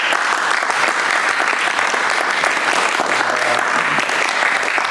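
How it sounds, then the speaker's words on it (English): Audience applause at a town hall meeting with Dr. David Carpenter, a loud, sustained burst of many people clapping, even and unbroken throughout, with a faint murmur of voices beneath. "please give this man a round of applause one more time"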